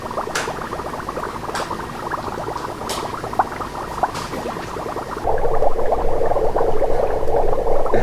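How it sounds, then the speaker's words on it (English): Dry ice bubbling in liquid, with dense, rapid popping and gurgling close by, growing louder and fuller partway through, with no talking. "It's like a bunch of different bubbles and they individually pop."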